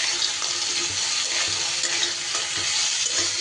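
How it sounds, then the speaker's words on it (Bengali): Fried lentil dumplings (bori) hit a pan of hot oil with chilies, giving a continuous bright sizzle with soft stirring scrapes throughout. "এবার এই লঙ্কার উপরেই আমি ভেজে রাখা বড়িগুলোও দিয়ে দিচ্ছি।"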